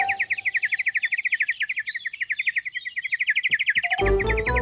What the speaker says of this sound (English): Can you sing more quietly, please, Bird?